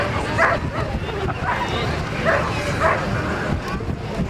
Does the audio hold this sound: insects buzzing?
no